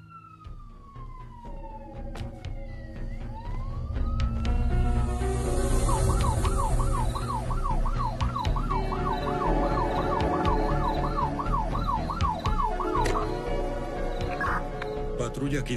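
Police car sirens approach, wailing in a steady, rapidly oscillating yelp that rises over a low engine rumble and grows louder before fading slightly, with some talk underneath.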